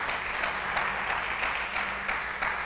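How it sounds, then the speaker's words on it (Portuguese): Congregation applause during a Portuguese-language church sermon, a steady wash of many hands clapping that holds evenly throughout at moderate volume. "Dá um aplauso a Jesus."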